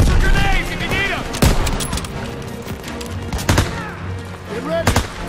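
Dense gunfire from a Call of Duty WW2 campaign battle holding a stronghold position, loud bursts and sharp shots cracking continuously, with voices shouting over the fight.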